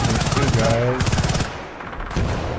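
Rapid automatic gunfire from the Battlefield Bad Company 2 video game, dense bursts of shots in the first second and a half, then a brief lull before more firing returns, with a voice talking underneath.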